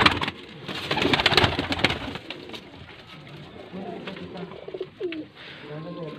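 A racing pigeon coos at close range in soft, rolling phrases, with brief sharper calls and flutters at the start, while quiet background noise continues throughout.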